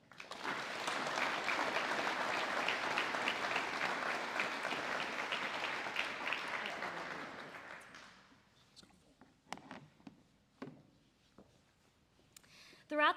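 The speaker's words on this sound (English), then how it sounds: "please join me in a round of applause for the members leading this team this year." An audience at a university team showcase night applauding the team leaders, full sustained clapping for about eight seconds before it thins out and fades into a few scattered claps and small room noises.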